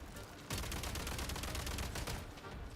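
Rapid bursts of gunfire in a Genshin Impact 7.0 world quest, a dense, sustained volley of shots that starts abruptly half a second in and keeps crackling loudly until the end.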